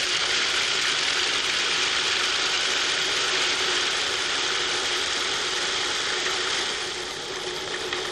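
Cuisinart food processor with a metal blade chopping peanuts in a Lexan work bowl, a loud, steady, dense rattling clatter that runs unbroken throughout, easing slightly near the end.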